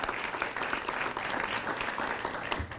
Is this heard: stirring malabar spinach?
no